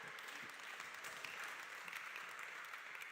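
Faint, steady clapping from an audience at a church gathering, a soft continuous patter of many hands heard at a distance without voices over it.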